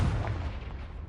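A Confringo spell explosion in the Hogwarts Legacy video game lands as a single deep boom that rumbles and fades over about a second, with no talking.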